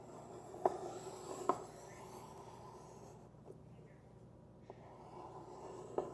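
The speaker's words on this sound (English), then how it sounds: "Draw that circle in." A pencil compass drawing a circle on paper gives a soft, close graphite scratching with a few sharp ticks as the point presses in. The sound is quiet, with a pause partway through.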